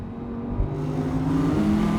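An Audi R8 RWD's 5.2-litre naturally aspirated V10 revs and holds a steady, loud engine note for about two seconds, with a brief swell near the middle and no voices.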